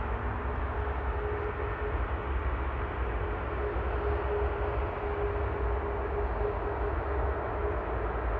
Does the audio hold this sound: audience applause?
no